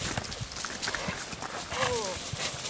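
A horse bucks while learning to run and turn, with irregular heavy hoof thumps and scuffs close by. People talk over it.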